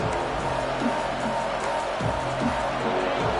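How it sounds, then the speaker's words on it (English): A college football stadium crowd at a Tennessee game roars steadily as the defense holds the opponent deep in their own end, a dense, constant wash of distant voices with faint speech underneath. "The roar of the crowd trying to fuel this defense to keep them pinned in their own end."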